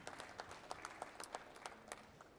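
An audience applauds briefly and faintly at an innovation awards ceremony, a scattered run of hand claps heard from a distance.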